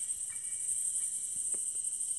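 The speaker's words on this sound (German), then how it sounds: "Diese lauten Grillen, ey." Crickets chirp steadily and continuously in the video game Granny, a constant high insect trill running the full length without any talk.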